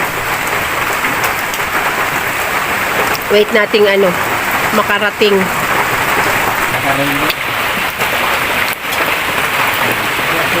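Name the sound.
heavy rain falling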